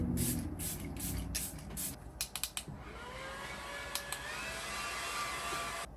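Charlotte Tilbury makeup setting spray misted onto a face in several short, close bursts, each a sharp airy hiss, then quieter rustling handling.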